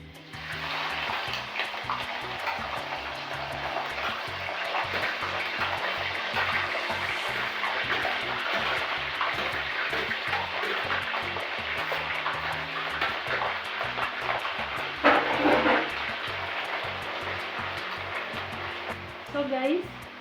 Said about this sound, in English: Oil is ready, so let's fry our omena.